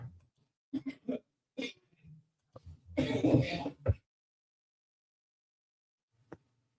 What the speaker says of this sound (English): Someone's being a little obnoxious and coughing